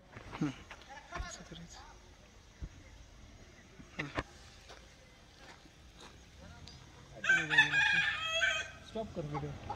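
A rooster crows loudly near the end amid scattered clucks and soft clicks and knocks, with faint talking in the background.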